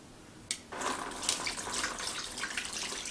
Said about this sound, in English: If I drain some of the water out,